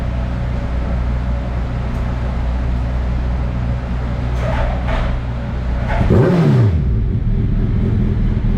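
A Suzuki Hayabusa motorcycle engine idles with a loud, steady rumble, then the exhaust revs up sharply and drops back down.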